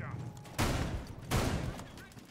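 MK14 rifle gunfire in a Rainbow Six Siege esports match on the Consulate map: two loud bursts of rapid shots over a steady background of game ambience.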